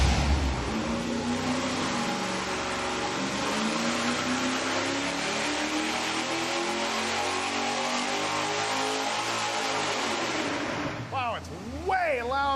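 A boosted old-school V8 on a dyno, fitted with dual-quad carburetion and swappable headers, roars at high load in a loud, sustained rising drone, then drops away near the end as voices talk.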